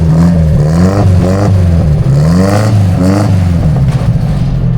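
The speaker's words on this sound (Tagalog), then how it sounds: "paparinig ko sa inyo mga boss yung tunog ng ating muffler" An owner-type jeep engine revs repeatedly through its muffler, deep throaty rumble rising and falling in several pulses, loud and close, no talking.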